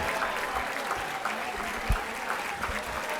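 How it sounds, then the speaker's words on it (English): A standing audience applauds at a women's awards ceremony, steady crowd clapping throughout with a few louder thumps and light voices underneath. "Please stand up and give them a round of applause."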